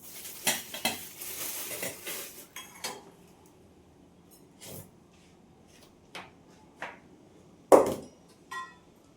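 Sugar being stirred into chhena in a pan, a burst of spoon scraping and clinks at the start, then sparse isolated knocks against the metal with a sharp clank near the end, close and quiet.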